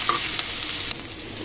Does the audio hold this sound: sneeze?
no